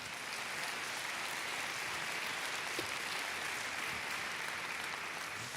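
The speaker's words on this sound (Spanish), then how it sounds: "Dele palmas al Señor." A church congregation claps at a Christmas service, producing a continuous, dense wash of applause that stays even and sustained throughout.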